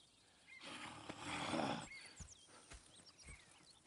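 A horse in the video game Red Dead Redemption 2 gives a loud, rough snorting whinny up close, then its hooves clop in a few scattered steps against quiet ambience.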